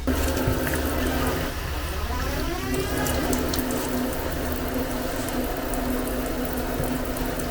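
Water runs and splashes steadily onto tire sound-insulation material that soaks it up, a continuous close trickling sound with no talking.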